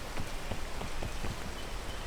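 Steady rain pours down in the climbing video game Peak, a dense, even hiss of falling drops with soft, irregular patters, running continuously with no voices.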